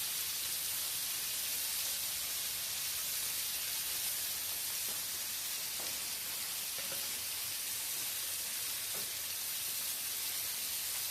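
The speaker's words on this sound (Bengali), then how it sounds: "বাইরে দেখুন বৃষ্টি হচ্ছে" Rain falls steadily outside a village kitchen as a constant, faint, even hiss with occasional soft taps, and no one speaks.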